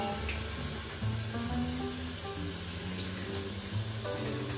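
Running shower water sprays steadily while a dog is washed at about 35 degrees, a continuous close hiss of water with faint tonal bathroom resonance and no speech over it.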